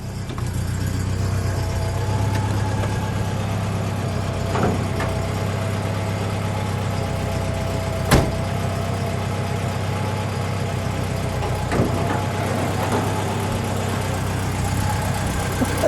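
A 1980 Saab 96 GL Jubileum's V4 engine idles steadily in park with the hood open, a continuous low rumble with a few brief clicks and knocks, no talking.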